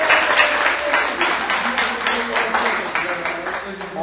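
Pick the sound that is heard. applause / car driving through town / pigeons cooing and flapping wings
applause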